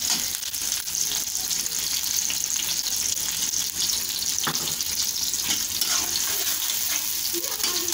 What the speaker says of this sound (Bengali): এই পেঁয়াজটা এখন আমি ভাজা ভাজা করবো না, এটা কিছু হালকা সিদ্ধ করে নিব